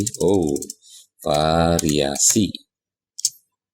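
A few quick clicks from a computer keyboard as title text is typed, sitting among and just after a person's talking, close and light.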